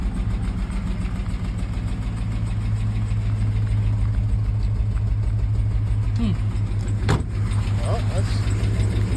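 A car engine runs rough at idle during a crude alternator test, a loud, close, steady low drone with an uneven pulse, a brief metallic clink partway through, and a person's voice talking over it.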